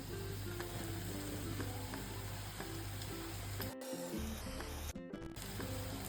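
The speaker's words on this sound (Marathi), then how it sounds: "आता हे थोडं रेडिश झाल्यानंतर आपण ह्याच्यात पत्तागोबी टाकणार आहे।" Shredded cabbage hissing in a hot frying pan of masala noodles, a steady broadband sizzle running throughout with brief interruptions and faint scraping knocks from stirring.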